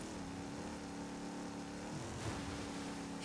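A turbocharged Pontiac race car engine in a driving game drones steadily at high revs, a sustained buzzing tone that shifts slightly in pitch near the end, loud and close with no talk.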